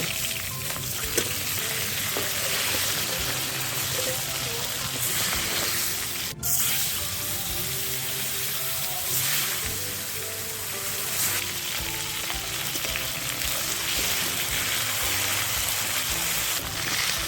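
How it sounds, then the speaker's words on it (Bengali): Aar fish fry in mustard oil in a kadai over an outdoor wood-fired stove, giving a dense, loud, continuous sizzle and crackle with one sharp click partway through and no talking. "মাছগুলো একে একে ভেজে তুলে নেব"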